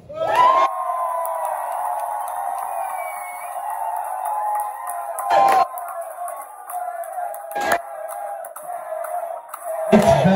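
A sustained roar of crowd cheering and whooping, steady and loud, with a few sharp spikes of louder shouts along the way.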